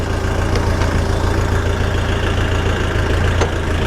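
The diesel engine of a Dong Feng 404DHL mini tractor runs in reverse gear, a loud, close, steady chugging drone with a few faint clicks and no talk.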